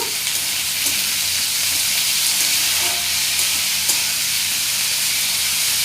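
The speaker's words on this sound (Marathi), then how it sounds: "आता आपण यात टोमॅटो घालूया व्यवस्थित परतून घेऊया" Onion and tomatoes sauté in a pan for egg bhurji, giving a steady, close sizzle with faint stirring scrapes throughout and no talk.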